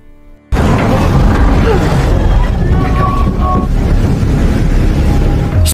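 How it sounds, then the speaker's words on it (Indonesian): A ship crosses open sea in a film scene, giving a steady, loud rush of wind and water with low engine rumble that starts abruptly and holds constant throughout. "Kapal tersebut kemudian berjalan melintasi laut."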